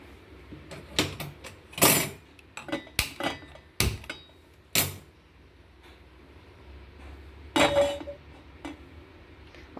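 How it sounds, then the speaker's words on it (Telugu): A metal wok is set on a kitchen stove and the burner switched on: a string of sharp, separate clanks and knocks of metal on metal, close and fairly loud against a quiet background. "ఓకే, స్టవ్ మీద మూకుడు పెట్టి స్టవ్ ఆన్ చేసుకుందాము."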